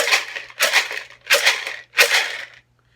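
A lidded jar holding a small handful of material is shaken in four even bursts, each a bright, gritty rattle with short gaps between, close and clear with no talk.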